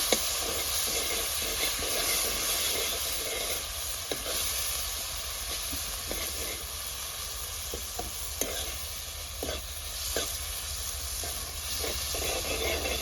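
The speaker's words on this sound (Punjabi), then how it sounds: "ਕੱਲਾ ਜੀਰਾ ਹੀ ਪਾਵਾਂਗੇ ਹੁਣ ਇਹਨੂੰ ਆਪਾਂ ਚੰਗੀ ਤਰ੍ਹਾਂ ਮਸਾਲਿਆਂ ਨੂੰ ਪਕਾ ਲੈਣਾ" Cumin and spices fry in a pan over a chulha stove for malai chili paneer. A continuous hissing sizzle runs throughout, broken by light clicks and scrapes of stirring, with no voices.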